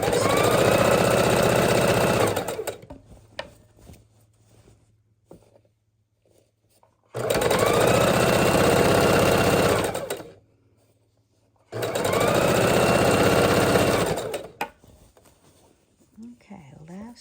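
Sewing machine stitching quilt pieces together in a beginner's piecing session, running in three loud sustained bursts of about two to three seconds each, with quiet pauses between them.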